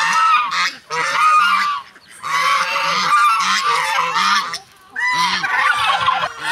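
Several birds honk and quack loudly in repeated bursts, nasal calls overlapping closely nearby, with short pauses between groups of calls.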